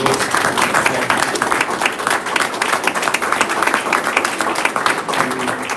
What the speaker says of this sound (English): a round of applause, please, for our girls